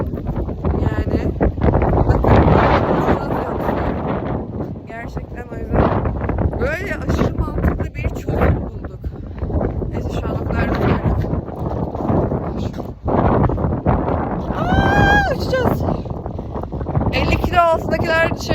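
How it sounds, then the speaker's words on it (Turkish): Strong wind roars steadily across the microphone throughout at a campsite, with a person talking over the continuous buffeting gusts. "o kadar rüzgar var ki biz geri geri geliyoruz"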